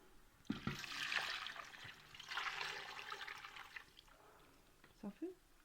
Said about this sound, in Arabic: غادي نمرق بشي شويه ديال الماء